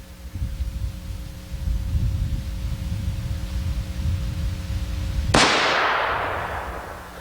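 One sharp, loud report from a scoped rifle fired downhill at a 50-yard target, cracking after a stretch of low hum and rolling away in a decaying echo.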